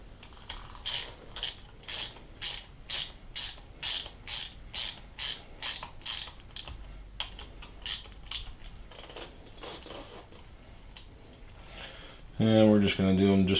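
A ratchet snugs screws on a South Bend lathe during restoration, with about fifteen crisp, evenly spaced clicking bursts up close, then a pause before a few more strokes.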